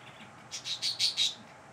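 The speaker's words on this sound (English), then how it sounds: "there's going to be some bird chatter in the background" A pet bird chatters in the background of a quiet indoor room, giving a quick run of five bright chirps that rise and fall, moderately faint.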